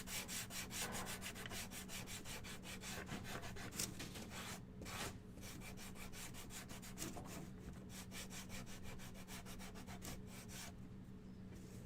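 Quiet, rhythmic sandpaper strokes rubbing back and forth over a small wooden duck kit piece, brisk repeated scrapes close up with a couple of brief pauses and no talking.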